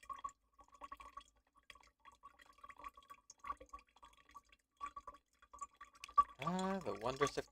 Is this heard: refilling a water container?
yes